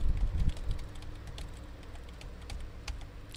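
Light tapping on a computer keyboard while entering a captcha, soft scattered key clicks over a steady low room hum.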